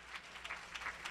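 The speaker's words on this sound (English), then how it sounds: "Give him a hand clap of praise." A church congregation claps in praise during worship, with scattered, faint hand claps in an uneven rhythm.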